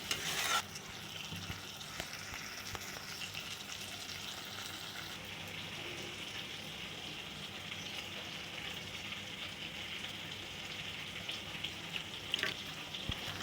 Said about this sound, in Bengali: আলুটাকে নেড়ে চেড়ে ভালো করে কষিয়ে নিচ্ছি।